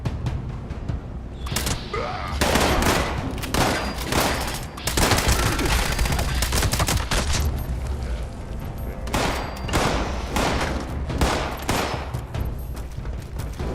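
Gunfire in the video game Fallout 76 rattles in dense, loud bursts, rapid automatic fire with short gaps between volleys, continuing almost without pause throughout.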